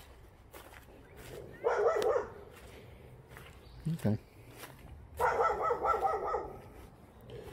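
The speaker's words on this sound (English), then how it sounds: "That dog is doing a really good job at keeping me away from his yard." From a yard, a dog barks at a passerby in two bursts of rapid barking, moderately close, with quieter footsteps and a brief word from a person in between.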